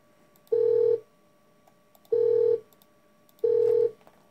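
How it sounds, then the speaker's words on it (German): Telephone dial tone from a German computer game's sound settings, three even beeps of about half a second each, spaced by longer silences, clean and alone. "Freizeichen."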